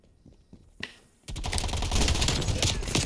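PPSh submachine gun in Black Ops Cold War opening up in a long, loud, rapid continuous burst after a quieter stretch of faint clicks and one sharp shot.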